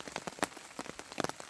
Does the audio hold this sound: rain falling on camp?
yes